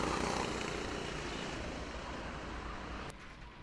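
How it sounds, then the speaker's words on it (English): A helicopter flies overhead at a kart racing championship, a loud continuous engine and rotor roar that eases slightly before dropping off abruptly near the end. "That's our helicopter driver."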